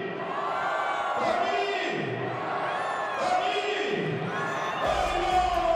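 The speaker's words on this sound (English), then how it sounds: "Listen to a little bit of this from the crowd." Spectators at the 2021 FIM X-Trial World Championship race in Andorra la Vella roar and cheer in rising waves of chanting voices, loud and close, with a thump near the end.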